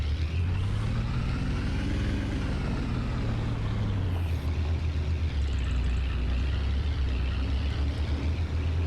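A truck in a farming video game: a steady engine drone that swells and dips in pitch as it revs, continuous and fairly loud throughout, with no talking.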